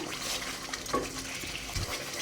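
Thick tomato pickle mixture sizzles and bubbles softly in hot oil, with a few quiet stirring scrapes of a spoon against the pan.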